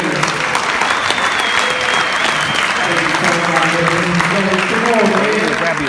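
Sustained audience applause at a men's summit in a stadium-style venue, dense continuous clapping and cheering with voices rising underneath toward the end.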